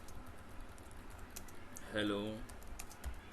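Soft clicking on a computer keyboard, faint scattered keystrokes throughout, with a brief spoken word partway through.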